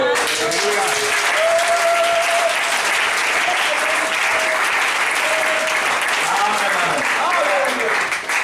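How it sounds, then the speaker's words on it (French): A church congregation applauds the Lord, sustained loud clapping with voices calling out and shouting over it. "Et une main d'acclamation pour le Seigneur."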